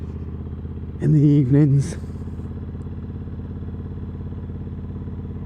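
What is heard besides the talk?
bobber motorcycle engine while riding in the evening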